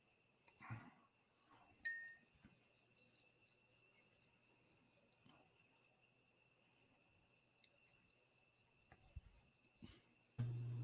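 Crickets trill steadily outdoors by a fire, a thin continuous chirping layer held through the whole stretch, with a few soft clinks and rustles and a louder thump at the very end.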